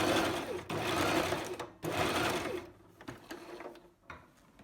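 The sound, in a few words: sewing machine stitching an elastic waistband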